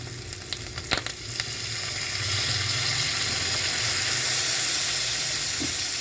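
Pork sizzles steadily in a hot pan with soy sauce, a dense, continuous frying hiss with a few sharp crackles early on, growing slightly louder and fuller partway through, with no voices.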